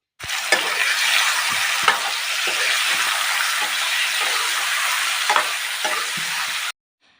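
Chicken meat sizzles loudly and continuously in hot oil with dried red chillies, bay leaves, cloves and cardamom, with occasional clinks and scrapes of stirring, then stops abruptly.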